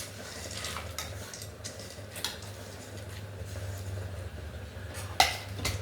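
Cashews, almonds, pumpkin seeds and melon seeds dry-roasting in a pan, giving light clinks and scrapes of the utensil against metal over a low steady hum, with one sharper knock near the end and no speech.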